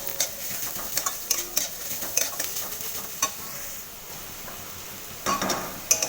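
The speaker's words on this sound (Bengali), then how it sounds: "এবার আমি এর মধ্যে বেটে রাখা রসুনটা দিয়ে দেব। ভালোভাবে একসাথে এটাকে নাড়িয়ে নেব।" Crushed garlic paste stirred into onions frying in oil in a pan, a metal spatula scraping and clinking against the pan in irregular bursts over a steady close sizzle.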